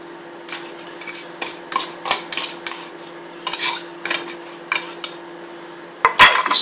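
Flaked tuna with its brine being stirred into a cheesy mornay sauce in a pan over a low stove: repeated close scraping and clinking strokes of a utensil against metal in short bursts over a faint steady hum.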